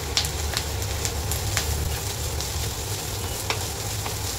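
Finely grated carrots and onions sauté in a pan, a constant close sizzle marked by regular clicks and taps of a stirring utensil against the pan, with no voices.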